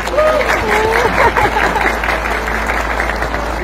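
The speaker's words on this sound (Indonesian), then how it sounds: "Kita tepuk tangan buat para pemenang." An audience at an SGS motivational gathering claps for the winners, a continuous wash of many hands at even volume, with a few voices and faint tonal sounds mixed in.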